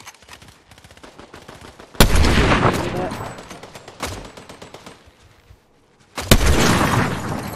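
Loud rapid gunfire in the video game Fortnite: rattling automatic bursts and heavy booming shots come in dense clusters with brief gaps between them, close and dominant.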